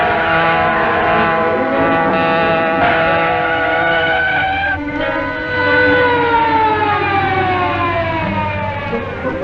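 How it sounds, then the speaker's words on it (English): A 1940s police car siren wails loudly and continuously with layered pitches that slowly slide downward, sustained throughout without pause. "Police car following us, Kato."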